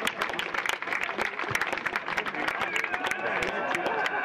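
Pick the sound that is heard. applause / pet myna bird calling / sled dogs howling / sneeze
applause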